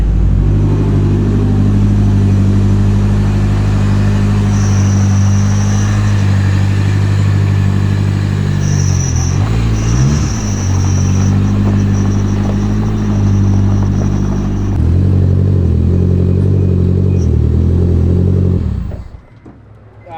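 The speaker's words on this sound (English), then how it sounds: "So not solid engine mounts, but stiffer engine mounts, and it revs quicker." Mitsubishi Lancer Evo 9 engine on stiffer mounts, running loud and close with a sustained throaty drone, rising and dipping as it is revved, then cutting off abruptly near the end.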